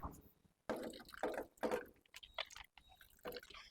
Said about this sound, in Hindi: अच्छे से रगड़ रगड़ के धो लेते हैं।